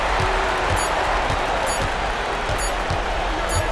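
Home crowd cheering in the NBA 2K26 basketball video game, a dense, steady roar of applause and crowd noise that stays loud throughout.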